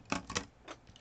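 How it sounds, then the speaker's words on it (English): A few quick, crisp metallic clicks close by, two near together then two more, quiet and isolated. "When you close, it's the sound of your scissors that you're going for."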